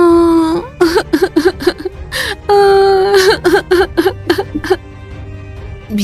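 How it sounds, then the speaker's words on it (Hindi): A cartoon woman cries loudly in close, wavering wails and sobbing breaths, the voice catching and rising in broken bursts throughout. "राजकुमारी चंद्रमुखी के कानों में किसी स्त्री की रोने की आवाज टकराई।"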